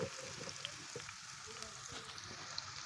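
Finely chopped medium onion frying in hot ghee, a soft continuous sizzle at low level with a few faint clicks and no talk.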